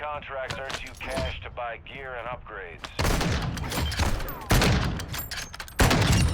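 Someone talks excitedly at first, then heavy bursts of automatic gunfire in Call of Duty Modern Warfare II DMZ erupt in repeated loud volleys, with speech continuing between and under the shots.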